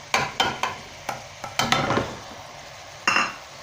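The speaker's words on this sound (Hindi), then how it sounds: "तो उनके विझी 1 मिनट असां भुनंदासीं।" Minced keema with ginger, garlic, dry and whole spices being stirred and fried in a pan, a spatula scraping in quick clustered strokes over a steady sizzle, close and loud with no talking.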